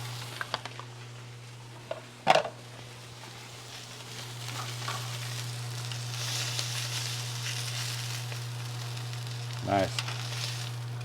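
A wagyu steak sizzles steadily in a pan with butter, a close continuous fry under a constant low hum, with a few sharper pops and clatters.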